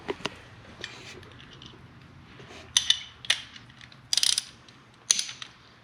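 A ratchet wrench with a 3/4 socket turns a bolt while highway pegs are mounted to an Indian Challenger motorcycle, giving several short bursts of rapid clicking with pauses between them, close and fairly loud, with no talking.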